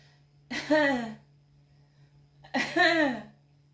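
Two separate coughing bursts, about two seconds apart, sound voiced and exaggerated, like someone imitating a cough, with a steady low hum underneath.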